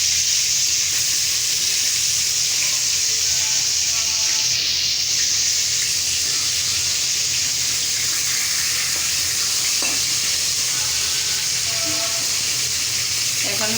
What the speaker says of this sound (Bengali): মাছ দিয়ে তরকারি রান্না করলে বেশি ভাজতে হয় না, হালকা করে একটু ভাজবো।